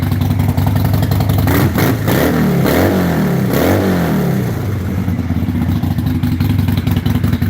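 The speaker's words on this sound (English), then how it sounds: "Let me rev this bad boy up a little bit." A motorcycle engine is revved up several times near the microphone, loud throttle blips rising and falling over a rumbling idle, with mechanical clatter between the surges.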